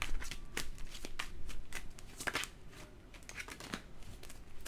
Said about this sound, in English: I think the cards are just flying out of my hands because of these nails.